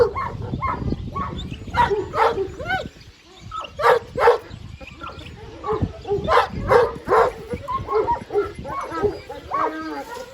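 A Kangal shepherd dog kept for breeding whimpers and gives short yips and barks in uneven bursts, close by, while someone talks over and between the sounds.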